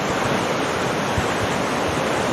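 A flooded river rushing beneath a washed-out bridge and eating at its foundation, a steady, loud, roaring wash of water close by with no breaks and no voices.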